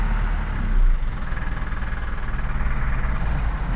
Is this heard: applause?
no